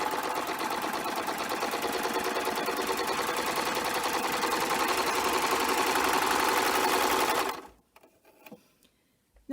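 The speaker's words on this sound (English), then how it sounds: "I'm going to serge, just skimming the stray threads off of the raw edge of my fabric" A serger overlock machine runs continuously for about seven seconds, trimming stray threads from a raw fabric edge with a fast, steady mechanical whir and chatter, close and loud, then stops abruptly into near silence.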